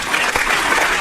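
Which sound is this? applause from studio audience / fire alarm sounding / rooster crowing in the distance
applause from studio audience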